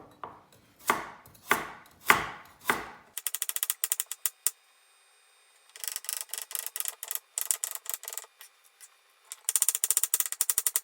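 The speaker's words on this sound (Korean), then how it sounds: "그 다음에 당근 똑같이 썰어줄게요" Carrots are sliced with a knife on a board, a few slow heavy chops followed by quick bursts of rapid, crisp cuts separated by short pauses.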